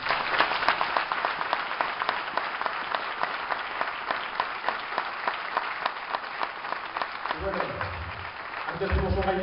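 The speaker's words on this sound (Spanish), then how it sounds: "Vamos a dar un fuerte aplauso" An audience applauds at a school end-of-year concert, dense steady clapping throughout that thins near the end as a voice begins speaking.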